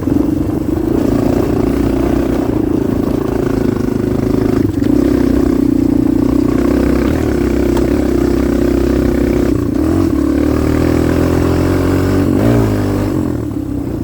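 A Kawasaki KLX 230R dirt bike engine drones loud and close in sixth gear, a sustained buzzing rev that holds steady for most of the run before dipping and shifting near the end.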